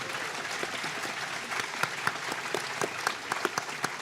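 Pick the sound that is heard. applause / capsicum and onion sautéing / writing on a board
applause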